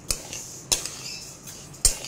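Dry lentils being fried in a hot wok for khichuri, with a utensil stirring them: three sharp metallic scrapes and clinks, spaced apart, over a low steady background with no talking.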